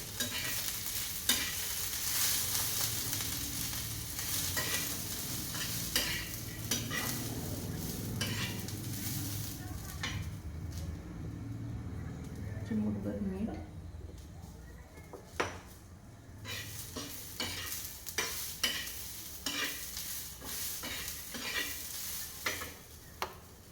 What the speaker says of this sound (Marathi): तेल गरम झालं त्यामध्ये मोड आलेले मोग तेल